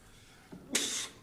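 A single sneeze rings out in a quiet borough council work session, a short breath in followed by a sharp, hissing burst at moderate distance, with no talking around it.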